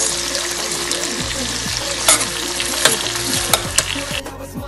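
Onions and vegetables stirred in oil in a pan for a prawn and vegetable casserole, a steady sizzle of frying under repeated scraping stir strokes, close and fairly loud, with no talk.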